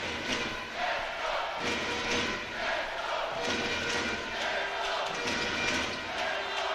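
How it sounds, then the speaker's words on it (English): A loud Czech hometown crowd cheers and roars steadily through a U16 men's ball hockey gold medal match between Czechia and the USA, with a commentator talking over it. "Czech hometown crowd very loud right now"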